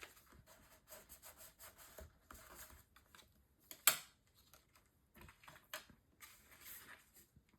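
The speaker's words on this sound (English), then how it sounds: "And then I will burnish this one down." Paper tab on a Stamperia Fortune mini album page is burnished flat along its score line, giving quiet intermittent rubbing strokes near the microphone and one sharp tap midway, with no voices.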